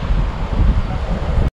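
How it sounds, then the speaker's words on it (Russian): Gusty wind buffets the microphone at a trout-fishing spot on the water, a loud, steady rumbling roar lasting about a second and a half before cutting off abruptly. "Ветер сейчас не перестает."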